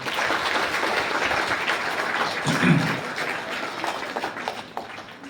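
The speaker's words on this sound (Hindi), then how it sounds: "मिसा बलिदान के अंत में आप लोग सब तालियां बजाकर बिशप स्वामी को धन्यवाद देते हैं।" Congregation clapping for the bishop at the end of Mass at a golden jubilee celebration, a moderate, steady patter of applause with no talk over it.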